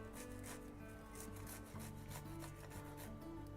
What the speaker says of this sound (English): So here I'm going to take some cloves of garlic and grate on this.